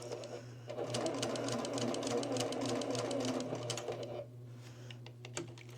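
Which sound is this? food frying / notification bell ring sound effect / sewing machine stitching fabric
sewing machine stitching fabric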